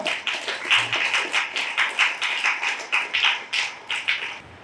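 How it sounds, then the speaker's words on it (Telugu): An audience at a church prayer gathering claps in a quick, steady burst of applause for several seconds, close and lively with no talk over it. "గట్టిగా చప్పట్లు కొడదాం."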